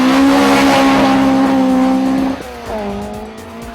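A Toyota Corolla rally car at a Barbados rally races past loud and close, its engine holding a high steady note before a sudden drop as it shifts, then climbing again while fading slightly.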